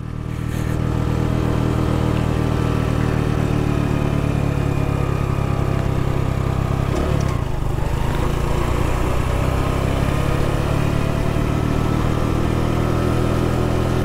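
A Honda Pop motorcycle descends a hill in first gear under engine braking, giving a steady, loud, close engine drone that holds throughout with a brief dip partway through.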